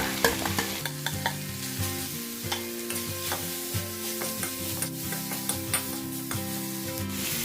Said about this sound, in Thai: นี่ครับบริตไม้ลงไปผัดเลยครับ หรือเพกา